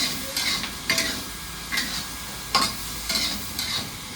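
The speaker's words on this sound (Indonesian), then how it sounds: "Bawang digoreng ngoten iki." Garlic fries in hot oil for a garlic sambal while a utensil scrapes and stirs it in regular strokes, close up and steady.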